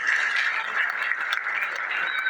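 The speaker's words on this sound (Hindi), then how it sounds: "जोरदार तालियों से सुनो।" A large crowd at the Kalki Dham festival in Sambhal, Uttar Pradesh, breaks into loud, dense applause that holds steady and unbroken throughout, close and full, with no voices standing out.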